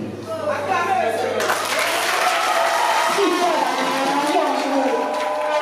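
A crowd applauds newly installed youth leaders at the investiture of the communal youth president in Agnibilekrou, a dense, steady roar of clapping that swells in after a quieter start and continues with voices mixed in.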